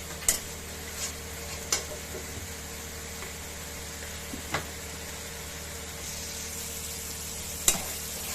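A spice paste with chili powder and turmeric powder fries in a pan, giving a constant even sizzle broken by a few sharp ticks as it is stirred, fairly close and with no speech.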